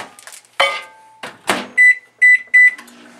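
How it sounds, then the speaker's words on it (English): Kitchen microwave oven used to melt chocolate: clunks and a door handled, then three loud evenly spaced high beeps signaling the end of the cycle, close and clear. "get that in your microwave and melt it"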